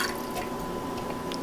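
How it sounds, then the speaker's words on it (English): Chicken broth is poured into a sauté pan of translucent onions, giving a steady liquid splashing and sizzling wash that runs throughout the short moment with no talking. "we simply pour the chicken broth right in there"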